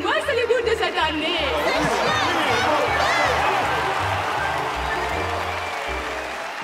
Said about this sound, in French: Applaudissez bien fort l'incomparable Ravageur, le vainqueur du grand concours canin